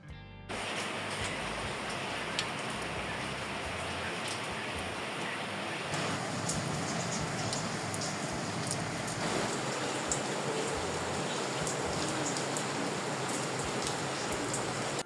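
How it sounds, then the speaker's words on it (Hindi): Heavy rain falls steadily and evenly for the whole stretch, a dense, loud hiss of drops on surfaces after a brief quiet start, with no voices. "नेक्स्ट डे फिर अच्छी खासी बारिश हो गई थी"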